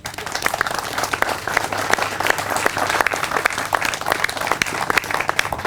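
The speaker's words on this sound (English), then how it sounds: "I think we should give a round of applause to the late lawyer Lewis L." A crowd at a historic colored school gathering applauds the late lawyer Lewis L. Redding, sustained loud clapping from many people that holds steady and close for the whole stretch.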